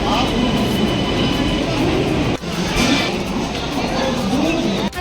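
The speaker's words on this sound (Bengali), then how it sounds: "ট্রেন এসে গেছে, এটা হচ্ছে হাওড়া রামপুরহাট স্পেশাল।" Steady low rumble of the Howrah–Rampurhat special train rolling in on the rails, loud and close, with station crowd murmur and talk mixed throughout.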